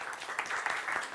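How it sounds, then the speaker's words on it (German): A faint, brief patter of audience applause at a talk, a soft scattering of claps heard from a distance. "Applaus, ja."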